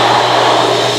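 A restroom hand dryer at Ichiran ramen in Taipei blows loudly and steadily, a close, continuous rushing roar of air.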